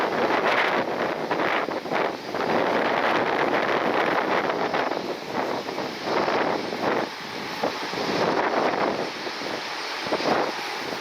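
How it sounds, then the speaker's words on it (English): Business jet engines whine and roar at a distance as the aircraft taxi at a Cleveland airport, mixed with gusting wind buffeting the microphone. "In the background, a couple of business jets taxiing over."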